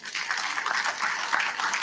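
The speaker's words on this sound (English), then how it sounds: "a big hand of applause" A conference audience breaks into a brief, dense burst of hand clapping, steady and fairly close, lasting under two seconds.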